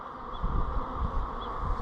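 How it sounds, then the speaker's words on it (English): Dense, close buzzing of many honeybees inside a hive, a steady low hum with slight swells, heard on its own. "there's a lot of bees in here"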